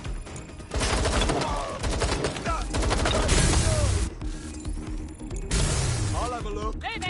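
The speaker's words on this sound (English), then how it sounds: "Taking fire! This can't. Watch out! Shots fired!" Bursts of video game gunfire crackle in loud, dense volleys of rapid shots, broken by short pauses, with a voice briefly heard between them.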